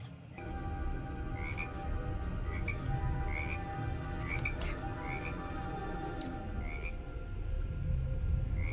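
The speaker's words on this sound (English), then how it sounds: "It's a one-eyed frog." Frog croaking from a one-eyed frog in The Book of Boba Fett, a repeated chirping croak recurring about every second over a steady low rumble of background sound, with no talking.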